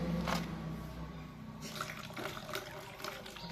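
Water and fresh cow urine are poured into a container while preparing bijamrut, a cow-based natural-farming seed treatment; the pouring splashes and trickles in a few bursts over a steady low background hum.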